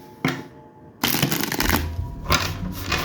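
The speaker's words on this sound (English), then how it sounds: "We're gonna shuffle it one more time here." A deck of tarot cards is shuffled up close, a brief riffle followed by a longer, loud flurry of rapid card flutters with no talking.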